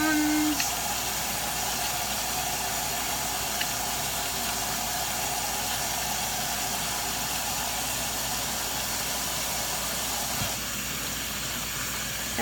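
A hot-water faucet runs steadily at close range, a continuous hiss that holds level for about ten seconds and then thins slightly near the end.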